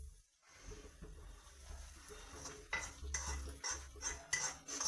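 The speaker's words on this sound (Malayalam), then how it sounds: "ഇനി ഞാൻ ഈ ഉള്ളി വറുത്തതിനകത്തോട്ടെ." A spoon clinks and scrapes in a pot as fried onions are stirred into Karkidaka rice porridge, a few quiet metallic taps and sloshes in close, otherwise hushed surroundings.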